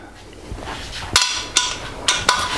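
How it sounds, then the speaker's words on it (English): Torque wrench clicks while tightening engine bearing cap bolts to full torque on a PowerTec 10 engine: four sharp metallic clicks in an uneven rhythm over quiet room noise, close and fairly loud. "Now let's torque this up to full torque."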